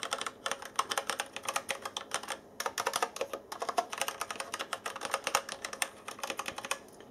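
Rapid typing on a Lobera mechanical keyboard with Kailh switches, fairly light and quiet keypresses clicking in quick irregular bursts with brief pauses, close and alone.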